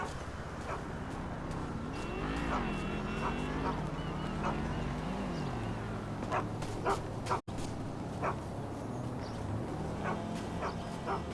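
Dogs bark in Grand Theft Auto V, several short yips and barks scattered over a steady background hum of game ambience and a passing car, fairly faint, with no talking.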